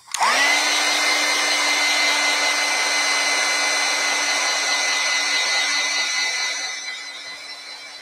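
A hair dryer switches on abruptly and blows with a loud, steady whine and whoosh close by while drying a watercolor painting, easing slightly in the last seconds.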